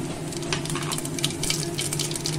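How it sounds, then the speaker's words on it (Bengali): Whole cumin seeds and bay leaves sizzle in hot oil in a pan, a steady close crackling hiss with no talk. "এর মধ্যে আমি গোটা জিরে আর তেজপাতা তেলে দিয়ে দিলাম।"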